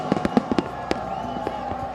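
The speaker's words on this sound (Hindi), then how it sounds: "रियो डी जेनेरो के मशहूर कोपाकाबाना बीच पर आतिशबाजी के साथ नए साल का आगाज किया" New Year fireworks bursting over Copacabana beach in Rio de Janeiro, with a cluster of sharp cracking pops in the first second, then scattered bangs over a steady crowd roar.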